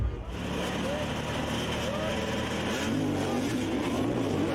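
Enduro motorcycles rev at full throttle at the start of a Red Bull Romaniacs hard enduro race, a steady engine roar with rising and falling pitch under commentary talk.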